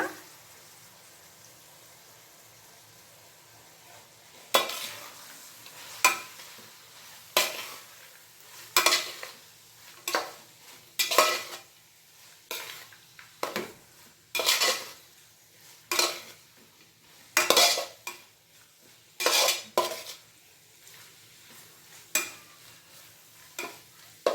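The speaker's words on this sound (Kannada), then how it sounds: "ಈ ಸ್ಪೂನಲ್ಲಿ ಒಂದು ಸ್ಪೂನು ಬೆಲ್ಲದ ಪುಡಿ ಇದಿಷ್ಟು ಹಾಕಿ ಮಿಕ್ಸ್ ಮಾಡಿಬಿಡೋಣ" Spoon stirring jaggery powder into vangibath mixture in a pan, a steady run of scraping, clacking strokes against the pan roughly every second over a faint sizzle, close and clear with no voices.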